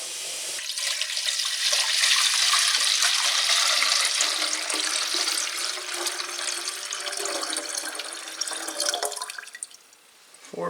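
Water poured steadily onto a kitchen scale while mixing sugar water for bees, a continuous close splashing rush that tapers off near the end as the pour slows and stops.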